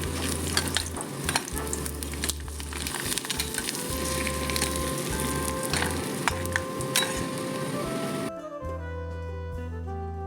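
Rice flour papad (vadiyalu) fry in hot oil with a steady, close crackling sizzle and bursts of bubbling, broken by occasional stirring clatter. Near the end the sizzle drops away, leaving a quieter tonal background.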